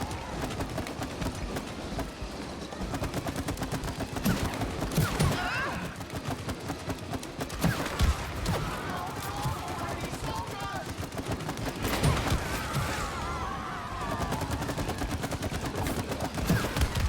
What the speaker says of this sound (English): You just need to shoot the chain.